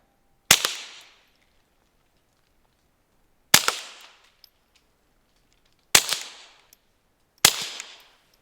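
Four sharp shots ring out from a suppressed Taurus TX22 pistol at uneven intervals. Each is a loud crack with a brief decaying tail, and the gaps between them are quiet.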